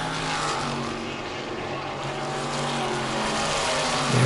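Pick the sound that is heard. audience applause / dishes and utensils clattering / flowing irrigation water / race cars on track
race cars on track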